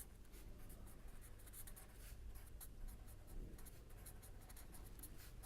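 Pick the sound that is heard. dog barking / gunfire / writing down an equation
writing down an equation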